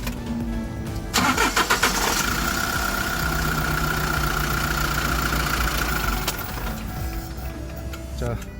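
A Kia Bongo 3 engine starts and idles with a steady mechanical hum and a faint rhythmic ticking whir from a worn alternator pulley bearing at the belt; a person speaks briefly nearby.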